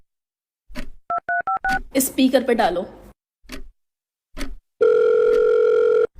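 A phone keypad beeps out a quick series of tones, then after a short spoken line a ringing tone sounds through a speaker.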